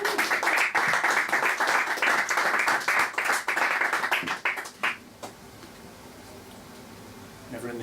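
Applause from an audience at a poetry reading, dense and loud clapping for about five seconds, then dying away into a few scattered claps and quiet room noise.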